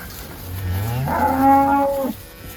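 A single cow on a ranch moos close and loud, one long, drawn-out call that rises in pitch and then cuts off, standing alone with no talking.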